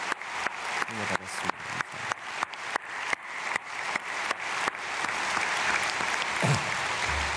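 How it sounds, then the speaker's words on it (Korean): A church congregation claps at an early morning prayer service, starting with rhythmic unison claps about twice per second, then swelling into continuous applause, with a voice briefly speaking near the end. "박수하겠습니다."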